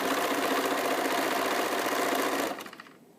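A sewing machine runs steadily while stitching fabric, a loud even mechanical whir with a rapid needle rhythm that slows and winds down near the end, with no talking.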